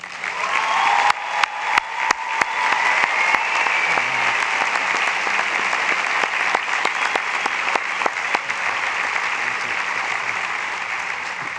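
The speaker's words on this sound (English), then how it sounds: "please join me in a warm round of applause for Bridgewater's finest" An audience at Bridgewater State University's 2018 undergraduate afternoon commencement gives a warm round of applause, dense steady clapping that fills the hall and continues without pause for over ten seconds.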